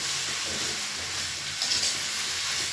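Tofu and sponge gourd sautéing in a pan give off a steady, close sizzle and hiss that runs unbroken the whole time, with no voices.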